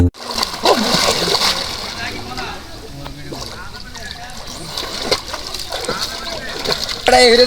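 Water splashes and sloshes repeatedly as someone bathes in hot weather, irregular close bursts of splatter over a steady hiss, with people talking throughout.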